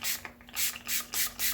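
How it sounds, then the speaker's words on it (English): Fixative hisses from a spray can in five short, even bursts onto a pastel drawing, close and clear with a low steady hum under them. "That's where we spray fix it,"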